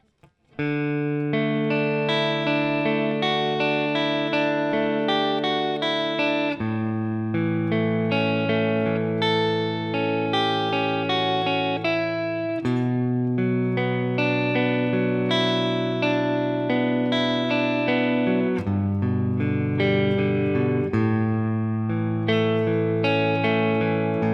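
Sustained, chorus-like electric guitar chords ring out alone in a steady progression, with several clear chord changes and no voices.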